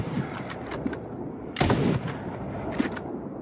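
Sharp sniper rifle shots crack in the shooter game Zerotnt, a few scattered reports with one heavier, booming blast in the middle over a low ambient bed.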